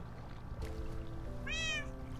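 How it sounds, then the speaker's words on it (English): An ocelot in a video game lets out one brief, bright meow near the end, heard faintly over a low steady background hum, with no speech. "Meow. Is there a cat nearby?"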